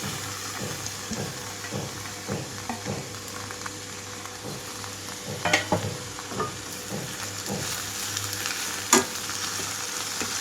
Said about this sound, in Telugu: ఇక్కడ తోటకూర మొత్తం వేసేసుకుంటున్నాను